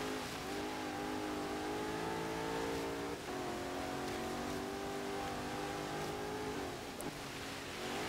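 A 1993 Porsche 928 GTS in Forza Horizon 3 climbs a snowy mountain hill: the engine holds a steady, close drone, revving through smooth rising pitches and dipping briefly between gears.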